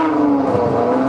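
The Apollo IE's 6.3-liter Ferrari V12, redlining at 9,000 RPM, holds a loud, high, sustained engine note close by, with a slight pitch dip midway. It is heard alone, with no voices.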